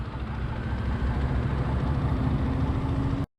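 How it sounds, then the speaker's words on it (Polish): A motorcycle engine idles close by with a steady low rumble and a constant hum, then cuts off abruptly. "Co to za motor?"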